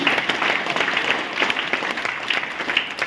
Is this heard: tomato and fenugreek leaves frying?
no